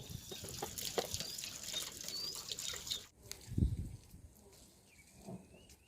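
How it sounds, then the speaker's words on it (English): Water from a backyard tap splashing and trickling as a cooking vessel is scrubbed with mud outdoors in the evening, soft close dribbling with a thud or two, birds faintly in the background. "So there is a tap at the backyard, and I'm just washing it with mud because I don't have soap."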